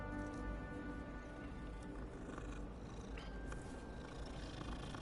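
A cat purrs while being petted in the video game Hogwarts Legacy, a low, steady continuous rumble under soft background noise with no talking.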